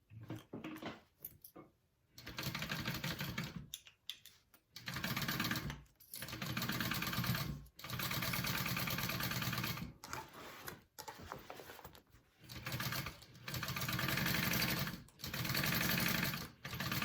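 Sewing machine top-stitching a handbag, running in steady bursts of a few seconds each with short pauses between passes, loud and close, with no talk.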